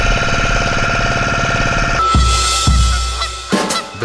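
Waterbirds at Chilika lake in Odisha give loud, rapid honking calls in a dense chorus, then scattered sharper calls ring out over open air.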